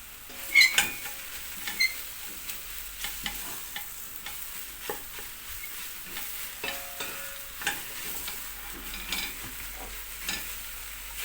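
Mushrooms sautéing in a pan for a carrot-mushroom soup, with a soft steady sizzle under repeated scraping and stirring clicks of a utensil against the pan, close by and fairly quiet, with no talking.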